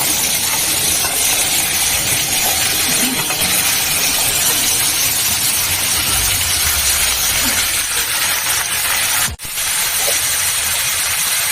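Cumin seeds fry in hot oil in a pan for a drumstick-flower posto dish, giving a loud, steady, close hiss that runs unbroken apart from one brief clack near the end.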